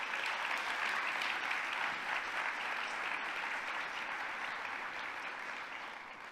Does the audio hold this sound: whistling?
no